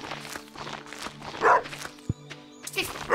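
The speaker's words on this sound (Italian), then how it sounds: "Casino che fa sto cane" A dog barks and yips repeatedly in a rhythmic series of close, fairly loud bursts, with a tonal musical hum running beneath and a sharp knock midway.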